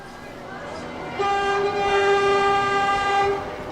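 A train horn sounds a long, steady harmonic blast over the rumble of rail traffic, then fades back to the ongoing train noise.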